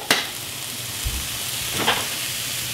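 Bell peppers and onion frying in a pan make a low, steady sizzle, with a couple of brief clinks or stirring scrapes over the quiet hiss.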